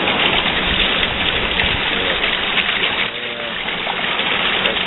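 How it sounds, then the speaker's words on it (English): Heavy rain in Costa Rica pouring down from all sides, with drainage water running and gushing nearby, forming a loud, continuous wash of noise with no voices. "And here we get rain going from all directions."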